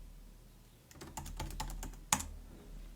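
Computer keyboard typing during Python coding, a quick run of distinct close key clicks after a quiet start, ending with one sharper, louder keystroke.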